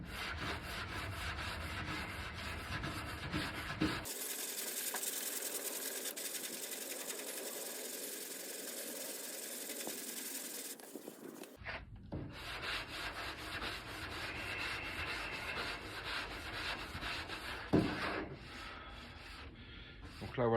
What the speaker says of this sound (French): En ponçant à la cale, donc j'ai descendu le premier mastic au départ